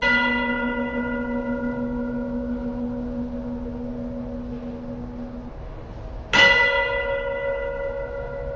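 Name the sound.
church bells chiming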